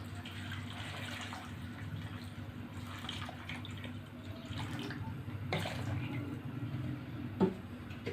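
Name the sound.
water poured into pot with raw mango and sugar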